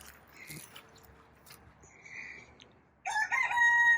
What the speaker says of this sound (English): This rooster's telling me thank you.